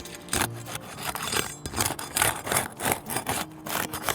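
Asphalt shingles being pried loose on a roof, their adhesive seal tearing free in a run of rough scraping, rasping bursts that come and go steadily over several seconds, close and moderately loud, with no voices.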